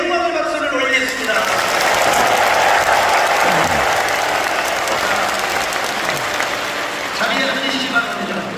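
A large church congregation applauds steadily and loudly for several seconds, the clapping dense and sustained before tapering slightly at the end.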